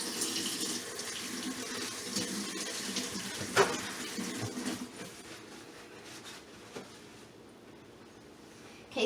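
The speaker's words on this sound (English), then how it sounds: "I'm rinsing the second one here." Kitchen tap water runs steadily while a chicken cutlet is rinsed under it, a soft continuous splashing hiss with a few small knocks, fading slightly toward the end.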